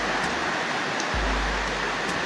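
Floodwater rushes in Luang Namtha province, Laos, during a historic September 2024 flood, a dense, steady broadband roar of flowing water, loud and continuous throughout with no talk.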